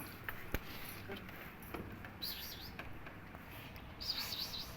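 A young pigeon chick chirps in short, faint, high tweets with a few scattered calls near a cat at home, thin against background noise.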